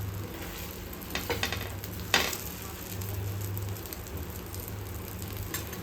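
Dosa batter sizzling and frying in oil on a hot pan, a steady close crackle with a few brief scraping or stirring bursts, no talk.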